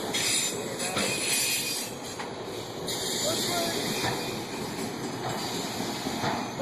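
A freight train carrying an end-of-train device rolls past on a railroad, a loud steady rumble of wheels on rails with metallic squeals and hiss layered on top throughout.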